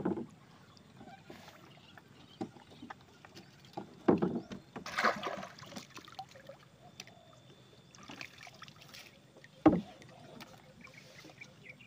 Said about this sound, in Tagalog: Maalog kasi itong bangka natin.